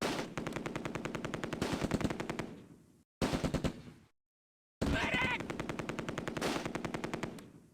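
Sustained bursts of machine gun fire from the WWII tactical game Close Combat: A Bridge Too Far, set during Operation Market Garden at Groesbeek landing zone: loud rapid rattling volleys, a brief silent gap, then the firing resumes steadily.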